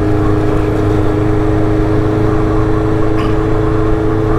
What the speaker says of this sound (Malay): Motor KTM dia